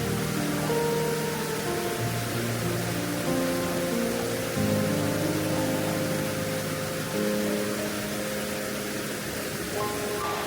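A main waterfall on a slippery river trail roars as a loud, steady broadband rush, continuous and unbroken throughout with no voices.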